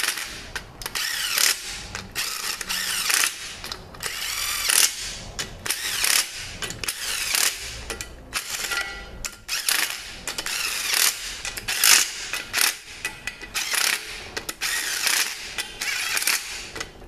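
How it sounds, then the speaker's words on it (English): A hand ratchet tightens bolts on a ZF4HP22 automatic transmission being repaired for leaks: a steady, close run of rapid clicking strokes in uneven bursts, nearly continuous throughout, with no voices. "so let's tighten these down, and then we'll torque them down"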